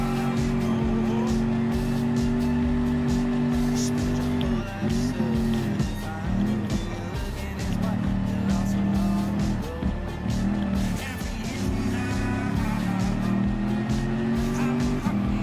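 Race cars in Gran Turismo Sport, including an F-150 Raptor and an Audi, roaring around a dirt rally track, with engines droning, revving and shifting pitch continuously and occasional tire scrabble under a steady loud mix.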